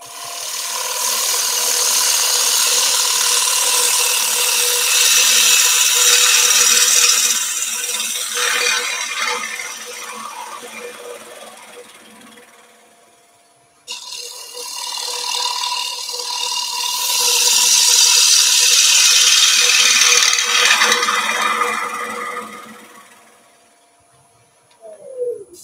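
A gouge cutting into wood, heard as two long, continuous passes of close, loud scraping and chattering that swell and then fade, separated by a brief pause, with no talking.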